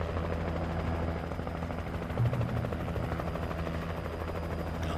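In the video game Alan Wake, a helicopter passes overhead with a continuous, loud rotor chop that holds a steady pulsing rhythm, heard alone without voices.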